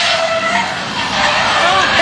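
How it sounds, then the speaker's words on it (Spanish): Car brakes screech in a sustained high-pitched skid just before a vehicle rollover, loud and continuous for the whole stretch, with voices talking over it. "Escucha el ruido de los frenos."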